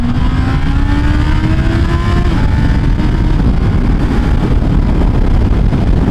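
Honda CB650R four-cylinder motorcycle pulling hard through the gears with the quick shifter, a rising engine note that climbs, cuts briefly at a shift and climbs again, heard close and loud over steady wind and road roar.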